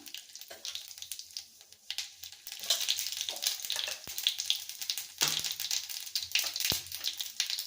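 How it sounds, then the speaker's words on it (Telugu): Mustard and cumin seeds sizzling in hot oil in a pan, with a crackling fry that swells louder partway through, broken by a couple of sharp clicks. "ఆయిల్ హీట్ అయ్యాక ఆవాలు వేసుకుందాం, జీలకర్ర వేసుకుందాం"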